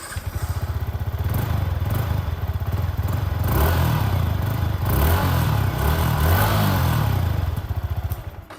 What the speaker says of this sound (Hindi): सो कुछ इस तरह का एग्जॉस्ट नोट मिलता है इन दिस यामाहा MT-15